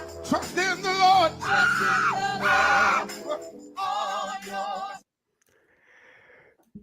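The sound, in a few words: man screaming in a singing crowd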